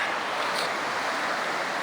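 A creek running high rushes past in a steady, loud broadband roar of flowing water, continuous and unbroken, with no voices.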